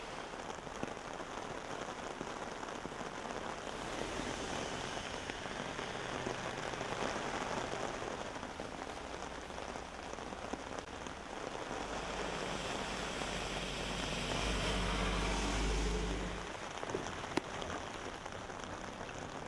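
Heavy monsoon rain lashes down across a flood-threatened district, a dense, continuous hiss of falling water that stays steady throughout, with a low rumble swelling briefly near the end.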